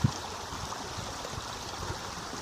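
Toolern Creek, a small watercourse, flows with a steady, even rush of moving water, continuous and moderately close, with no voices.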